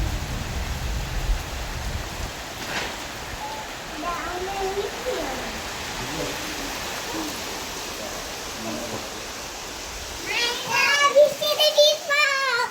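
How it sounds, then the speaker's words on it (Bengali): Heavy rain pours down in a steady broadband hiss, with voices talking and someone speaking over it, growing louder near the end. "ভালো বৃষ্টি নামছে, ভালো বৃষ্টি"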